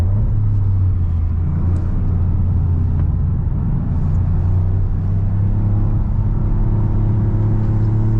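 A Toyota GR Yaris running on the TS Takata circuit, a loud, steady in-cabin engine drone and road rumble that holds constant throughout with no talk.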